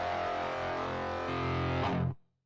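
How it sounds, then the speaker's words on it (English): A sustained guitar tone heavily processed with a phase distortion effect, harsh and buzzing, holding steady for about two seconds before cutting off abruptly. "The phase distortion."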